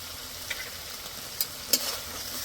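Spice masala with chili powder and a splash of water is sautéed in a pan for katla fish, making a steady close sizzle with a few sharp scrape clicks from the spoon, with no talk.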